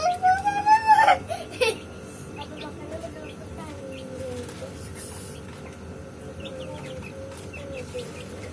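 Chickens being fed cluck close by with a rooster-like call at the start, then softer scattered clucks and bird noises over a background murmur.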